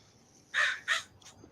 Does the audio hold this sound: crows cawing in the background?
yes